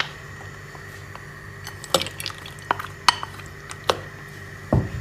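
Olives and their saved pits stirred in a saucepan set in a water bath over heat: scattered metallic clinks and scrapes of a utensil against the pot, irregular and close, over a low steady background hum.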